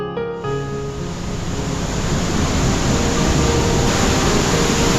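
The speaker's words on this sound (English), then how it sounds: "This is a beautiful waterfall that you must see" Lower Falls in Banff National Park pours as a dense, broadband rush of water that begins abruptly and then holds steady and loud, alone without voices.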